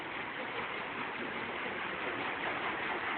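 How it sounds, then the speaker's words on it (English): Water pours steadily through the channel feeding a lodge's water wheel, a continuous soft rushing wash at moderate distance with no voices and no breaks. "The water comes through."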